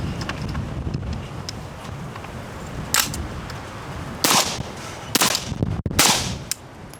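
Three suppressed 5.56 rifle shots through an OCL Polo K suppressor, fired outdoors: sharp, fairly distant cracks spaced roughly a second apart over wind noise.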